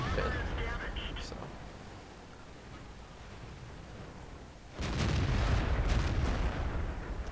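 Tank cannon fire in a tank combat video game, a heavy booming shot near the start, then a second powerful blast with a rushing roar later on. A voice talks over the battle noise.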